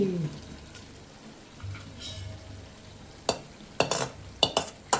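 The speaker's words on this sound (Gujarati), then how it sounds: "હવે આપણે નાખી દઈએ આમાં ભીંડી." Okra dropped into a hot pan on a gas stove, giving a soft background sizzle followed by several sharp scraping stir strokes and utensil knocks toward the end.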